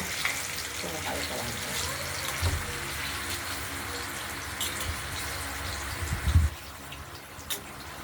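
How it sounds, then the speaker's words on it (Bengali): Paneer frying in hot oil in a home kitchen pan: a steady, close hiss and crackle runs throughout, with a few brief clatters and thumps near the end and soft speech now and then. "দেখতে থাকুন, পনিরটা ভাজা হোক।"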